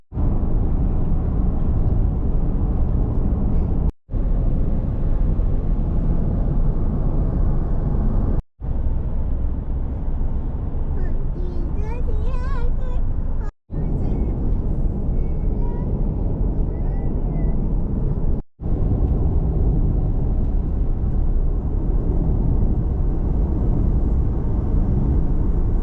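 A car drives along the road, giving a constant low rumble from inside the cabin, broken by a few abrupt cuts, with a voice heard briefly over it.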